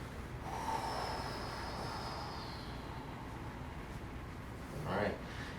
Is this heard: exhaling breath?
yes